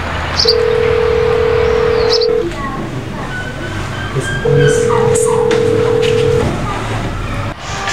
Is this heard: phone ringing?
yes